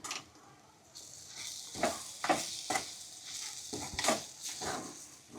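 Kachori masala filling of green pigeon peas with sugar and garam masala is stirred in a pan, giving a soft background hiss broken by several scraping strokes around the middle and end.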